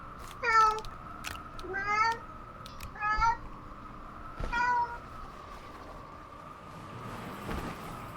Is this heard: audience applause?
no